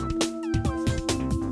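A voice imitating a cat's meow, giving a few short sung meows in a bouncy rhythm over light background music, close and clear.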